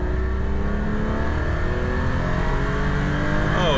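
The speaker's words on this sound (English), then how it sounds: "You can actually hear the engine now." A Maybach 62 V12 with a gated manual shifter runs under acceleration, giving a continuous engine drone whose pitch climbs steadily. The sound stays even and moderately loud throughout, with no talking.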